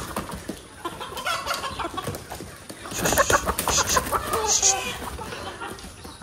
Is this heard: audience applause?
no